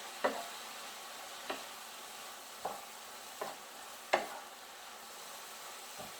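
A utensil stirs cauliflower fried rice with curry in a pan, giving quiet scraping strokes at a slow, fairly even pace over a faint sizzle.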